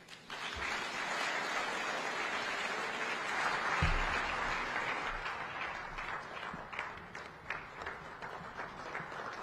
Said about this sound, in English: Once more, another round of applause